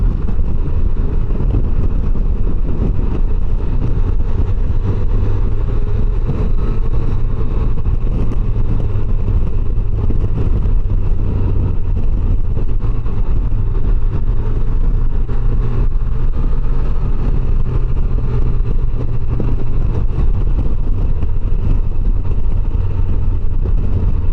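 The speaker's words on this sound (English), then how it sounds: "Wind is definitely trying to blow us around" Riding a 2025 Can-Am Canyon in gusty wind, the buffeting blends with a low engine drone into a loud, constant rumble that runs unbroken throughout, with no talking.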